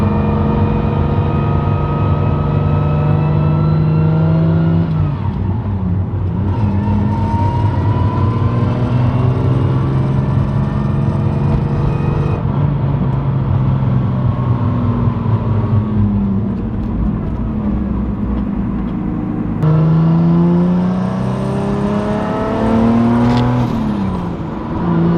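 A Nissan 350Z car engine with a 2JZ engine swap hums and revs steadily as it drives around the block, pitch rising and falling through gear changes, close and continuous.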